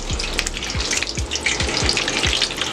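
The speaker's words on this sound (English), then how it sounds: "Frying up, baby. Frying up." Irish rolls dropped into hot oil fry with a steady, dense crackling sizzle, with a few low knocks as pieces go in, close and continuous, with no talk.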